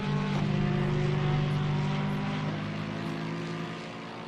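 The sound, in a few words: racing car engine in a racing video game at Watkins Glen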